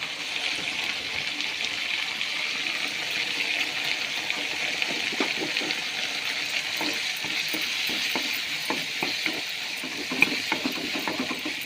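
A home-cooked tempering with turmeric and chili fries and is stirred in a pan: a constant moderate sizzle with repeated scraping stirs and small pops, no talking.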